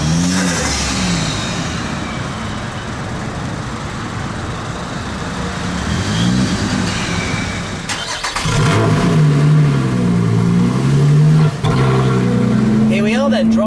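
A Lotus Exige S V6 starts up in Tour mode and pulls away, the engine note rising and falling through revs and gear changes, loud and close from on board, with someone talking over it.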